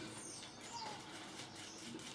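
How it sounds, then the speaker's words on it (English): Small birds chirp outside a bathroom window during a wet shave, with faint, thin calls scattered over a steady low background hiss and nothing else prominent. "On cue, there's the bird song,"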